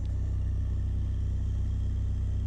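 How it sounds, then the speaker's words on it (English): A 2025 Mercedes-AMG GLC 63 S engine, started from cold in AMG mode, holds a loud, steady, deep idling drone close by, with no talking. "I can go into AMG mode and I can just, that kicks on the engine. That's almost like a cold start because the engine wasn't on at all"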